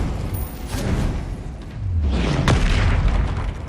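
A fiery Incendio spell blast in a Harry Potter video game, a heavy booming burst with a sharp crack in the middle, swelling then fading across a few seconds with no talking.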